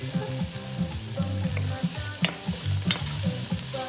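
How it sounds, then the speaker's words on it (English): Garlic and scallion sauté in a hot pan for red rice, sizzling steadily while a utensil stirs and scrapes in repeated strokes, close and fairly loud with no talking. "I'm gonna go ahead and add the garlic and the scallion. I'm gonna let that saute."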